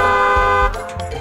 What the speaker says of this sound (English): A car honked unnecessarily.